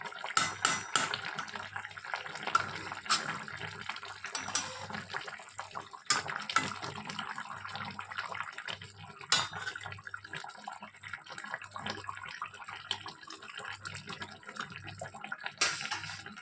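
Water pours steadily into a cooking pot of Bengali fish curry made with khoyra fish, a continuous close splashing stream running throughout with small drips and a low hum beneath.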